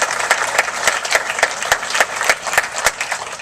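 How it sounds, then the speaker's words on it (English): An audience at a special recognition event applauds a retiring educator honored as educator of the year, a lively burst of many hands clapping with a few sharper claps standing out, close and fairly loud. "Give Diane a big round of applause"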